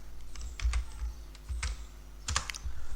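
Python code being typed on a computer keyboard, irregular bursts of clacking keystrokes with short pauses, close and moderately loud over a low background hum.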